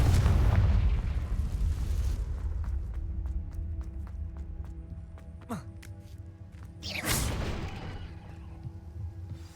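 Confringo blasting spell from Hogwarts Legacy, a booming magical blast near the start followed by a second burst later, set against a dense ambient game soundscape with faint tonal hum and no talk.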